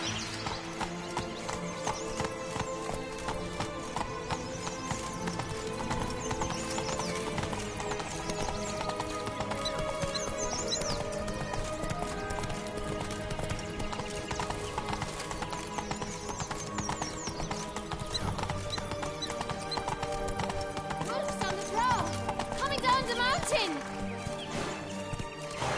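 Horse galloping in The Witcher 3: Blood and Wine, rapid continuous clip-clop hoofbeats with an occasional whinny over game ambience, a voice speaking briefly.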